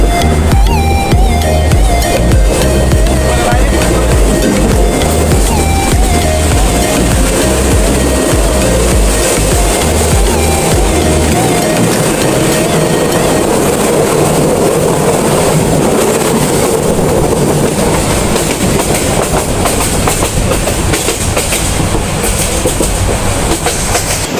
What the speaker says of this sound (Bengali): আমাদের ট্রেনটি ছুটে চলেছে দুইটি পাহাড়ের মধ্যে দিয়ে